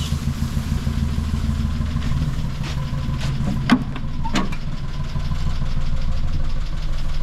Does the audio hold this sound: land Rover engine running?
yes